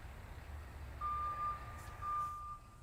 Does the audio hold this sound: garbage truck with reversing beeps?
yes